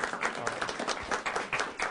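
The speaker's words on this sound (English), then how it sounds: "So give yourself a round of applause." Brief, fairly faint audience applause during a technology and marketing talk, a short patter of scattered claps from a crowd.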